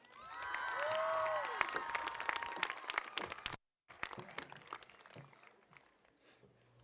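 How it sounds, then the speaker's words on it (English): Audience applause at a high school graduation ceremony, a broad wash of clapping and cheering with a few high whistles, swelling early then thinning out after a brief dropout. "Let's give her one more round of applause."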